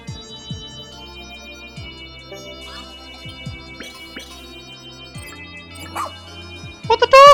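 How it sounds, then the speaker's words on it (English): A cartoonish dog in the Pikmin 4 video game lets out a few short barks amid game sound effects and music, ending in a louder burst near the close. "What the dog doing?"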